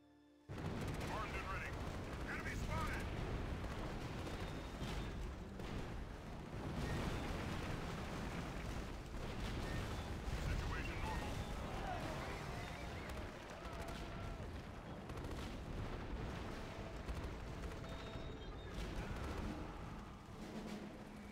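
Artillery barrage in the video game Axis & Allies, set in the Normandy breakout: a dense, continuous rumble of booming shellfire and explosions with scattered gunshots, loud and sustained throughout.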